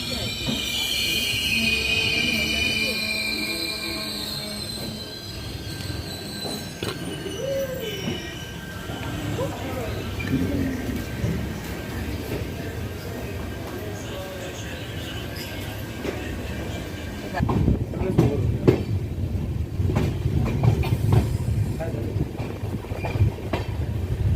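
The Mahalakshmi Express 17411 rumbles through Hatkanangale station with a close, continuous rolling roar and rhythmic clatter of wheels that grows louder near the end, while voices speak over it.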